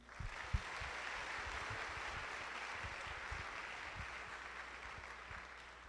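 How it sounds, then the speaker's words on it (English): Quiet, distant applause from a large audience at an Arkansas Boys State general session fills the room as a steady wash of clapping, with one sharper clap near the start. "Can we get one more round of applause for him?"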